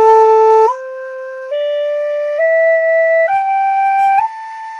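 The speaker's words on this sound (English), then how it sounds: "that's going to be our minor pentatonic scale. Really simple, really easy, and here's how it sounds." Native American flute playing an ascending minor pentatonic scale, six sustained, pure, breathy-edged notes stepping upward one after another, close and clear with no talking.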